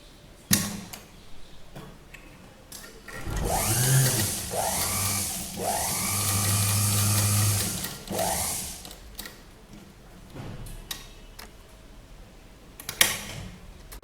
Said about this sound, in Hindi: यहाँ से स्टार्ट कीजिए सिलाई लगाना और पूरी यहाँ तक आप चले जाइए